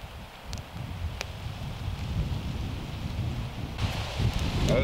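Light wind at a lakeside campsite at night, a steady soft rushing and rustling that builds slightly toward the end, with a few faint ticks and no voices.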